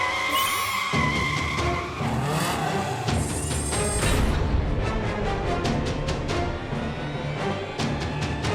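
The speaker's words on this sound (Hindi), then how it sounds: "ऐलान सिंह तो काफी धुआंधार गाड़ी चला रहा है।" Cartoon car racing fast, with high squealing tire skids and screeching swoops up front giving way to a dense roar and a rapid string of sharp clicking bursts.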